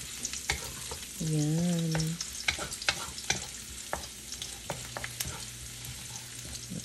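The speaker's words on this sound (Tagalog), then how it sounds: "Gigisa natin mga kaibigan. Papulahin ko lang ang bawang." Garlic sautéing in hot cooking oil for ginataang kalabasa with green beans and shrimp, a light crackling sizzle with clattering spatula stirs, a brief tonal hum near the start, and a short word spoken.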